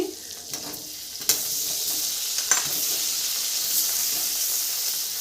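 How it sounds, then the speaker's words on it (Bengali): Paneer fries lightly in butter with a dense, even sizzle and hiss up close, marked by a few sharp clacks and scrapes from stirring, with no one talking. "বাটারে পনিরটা ভেজে নিই হালকা করে।"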